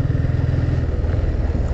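A 150cc motorcycle engine idles steadily close by, a loud, continuous low throbbing rumble with no talk over it.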